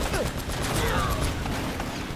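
Barrage gunfire in the video game Uncharted, a rapid rattling fusillade of shots that runs continuously under a voice.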